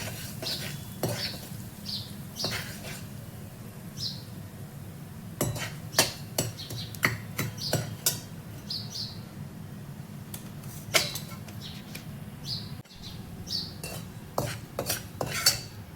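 Spices stirred in a pan for Konkani makhana chivda with black pepper, red chilli powder and salt: repeated sharp scrapes and clinks of a spoon against metal, irregular and close, over a low steady hum.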